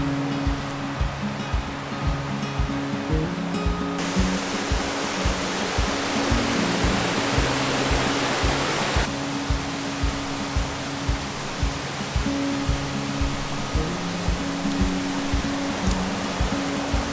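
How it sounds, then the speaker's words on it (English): A waterfall in Argyll gives a loud, continuous rushing roar of falling water that fills the whole stretch, with a faint regular low thudding running underneath and no voices. "So I've made it down by the waterfall, looking great by the way."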